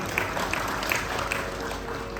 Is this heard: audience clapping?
yes